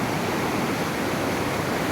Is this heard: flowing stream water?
yes